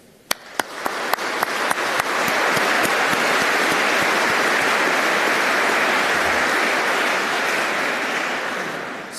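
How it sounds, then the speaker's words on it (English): Graduation ceremony audience breaks into applause, a few isolated claps at first swelling quickly into a loud, sustained wash of clapping that holds steady and begins to taper at the end. "Join me in a round of applause to send our appreciation."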